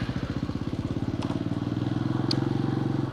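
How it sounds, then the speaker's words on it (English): A Honda 150cc scooter engine idling up close after the key is pulled, a loud, even putter of rapid regular pulses that holds steady and firms slightly toward the end. "the engine stays running when you pull the key out"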